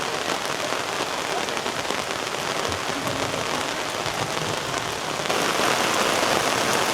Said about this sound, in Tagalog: Grabe, lakas pa rin ng ulan.